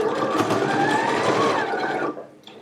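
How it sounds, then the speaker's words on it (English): A sewing machine runs slowly and steadily while sewing a jacket, a close continuous whir of stitching that stops abruptly near the end. "Okay, now I am ready to sew."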